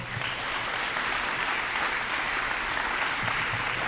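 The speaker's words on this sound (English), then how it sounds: "Can I have a round of applause?" An indoor audience at a YMCA expansion ribbon cutting breaks into sustained, even applause, a dense wash of clapping hands that holds steady throughout with no talk over it.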